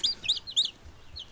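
Chicks and chickens in a coop with a heater, giving a quick run of high, thin peeping calls, about four close chirps in a row.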